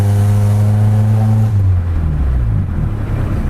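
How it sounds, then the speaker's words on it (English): A 1996 Honda Accord accelerates hard with a loud, close engine drone that climbs in pitch and then shifts and settles into steady road and engine noise. No one speaks. "We're gonna get going fast again, a little faster this time."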